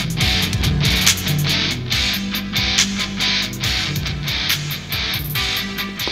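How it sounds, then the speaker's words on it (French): Music playing through a Carpuride W702 motorcycle intercom, steady and fairly loud with a clear rhythmic beat and bass line, no talking. "Et là, la musique passe bien sur mon intercom."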